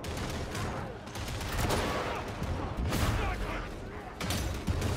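Plasma gun blasts in Warhammer 40,000: Darktide ring out amid a dense stretch of video game combat, with bursts of gunfire-like noise rising and falling over a steady loud din, while voices talk underneath.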